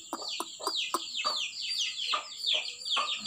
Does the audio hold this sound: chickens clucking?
yes